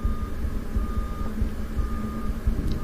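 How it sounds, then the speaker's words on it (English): Repeated electronic beeping from construction work at a school, heard faintly at a distance through a steady low rumble, with regular evenly spaced beeps. "I don't know if you can hear that beeping."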